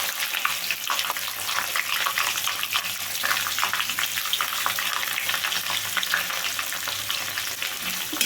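Chopped onions fry over medium flame in a pan with cinnamon, cloves, cardamom and fennel seeds, making a continuous close, bubbly sizzle that stays even throughout.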